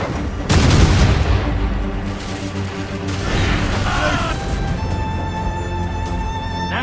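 Ship cannons boom in a naval battle in the video game Assassin's Creed Rogue, with a heavy blast followed by crackling gunfire, clattering debris and rumbling, while voices shout orders over the fighting.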